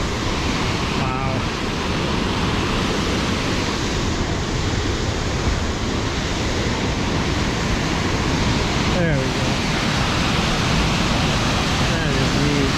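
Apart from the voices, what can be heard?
Sol Duc Falls waterfall, Olympic National Park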